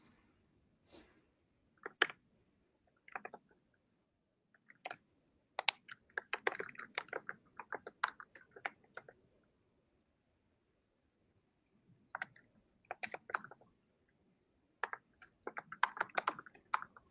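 Quiet typing on a computer keyboard during an online discussion session, in scattered bursts of rapid clicking keystrokes with pauses between, close and soft, with no talk.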